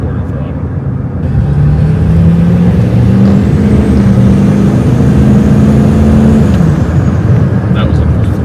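A loud, close Power Stroke diesel truck engine drones and climbs steadily in pitch as the vehicle accelerates at about quarter throttle, then settles, with a deep rumble throughout.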